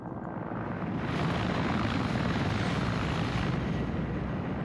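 A video game helicopter drones overhead in a military convoy mission, a steady rotor thrum with heavy low rumble holding at moderate distance and swelling slightly midway, no talk over it.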